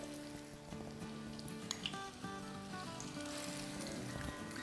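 Tandoori resha kabab frying in hot oil, giving a steady close sizzle and crackle throughout, with soft tonal music playing underneath.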